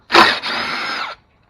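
A power tool loosening radiator bolts on a 2004 Chevy Venture, one loud close whirring burst of about a second with a brief dip partway through, then stopping.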